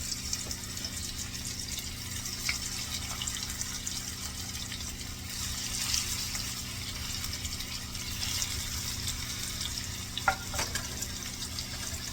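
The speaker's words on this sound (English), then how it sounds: "I'm going to brown the meat off" Beef pieces browning in a pan ahead of an Instant Pot stew give a steady, moderate sizzle and hiss that holds through the whole stretch, with a few faint clinks and no talking.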